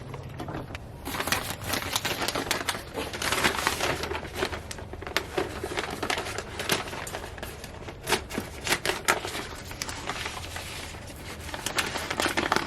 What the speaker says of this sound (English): So I'm going to cut pieces of this plastic and then put them over top, tape it, and poke some holes in.